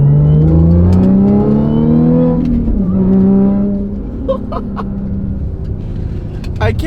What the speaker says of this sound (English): I can't get over that supercharger noise